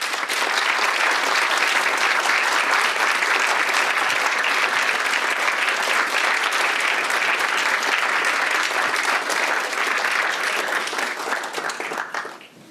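Sustained audience applause after a neuroscience talk at a Berlin academic event, dense and steady from many hands for over ten seconds before tapering off at the end.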